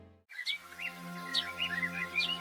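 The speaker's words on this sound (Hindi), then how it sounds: "पक्षियों की चहचहाहट" Birds chirping in a forest as a story sound effect: repeated bright tweets and short warbling calls over a steady low background drone, moderately close, no speech.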